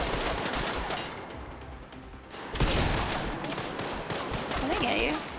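Rapid automatic gunfire bursts from the Resident Evil Requiem video game, loud and dense, with a sharp shot peak midway, while a player talks over the shooting.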